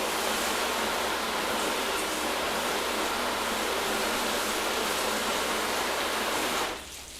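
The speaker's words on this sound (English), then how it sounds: "I'm just gonna give this a quick rinse so you can see how the coating is looking." Hose water sprays steadily over a ceramic-coated car body, a loud, continuous broadband hiss that runs unbroken for several seconds and then drops off sharply just before the end.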